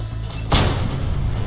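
An explosion in the Just Cause 2 video game goes off as a sudden loud boom, then a rumbling tail that stays strong and slowly rolls on.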